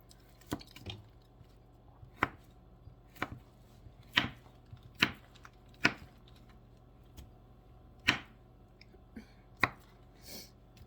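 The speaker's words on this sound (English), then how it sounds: "I'm going to chop this up and fill up the crock pot." Knife chopping through beef tallow on a cutting board before rendering it in a crock pot, about a dozen sharp, separate thuds at an uneven pace, close and clear over quiet background.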